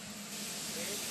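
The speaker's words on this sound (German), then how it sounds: "Jetzt fahre ich den Safari-Dampfzug für Touristen." Steady broadband hiss from a safari steam train for tourists heading to Victoria Falls in Zimbabwe, continuous and fairly loud, with a low rumble underneath and no pauses.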